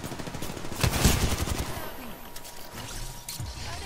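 Rapid video game gunfire crackles in a dense burst that peaks and then thins into scattered shots, fairly close and steady in level.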